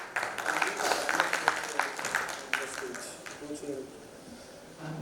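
Audience applause greets a speaker at a government digital-services conference in Guwahati: dense, fairly close clapping for a couple of seconds, thinning out while a voice talks over it.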